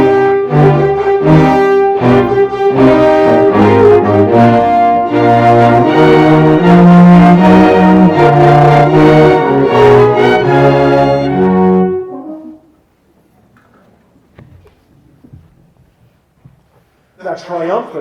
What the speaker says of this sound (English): suddenly in a menacing way, the horns come in, and three shorts and a long come back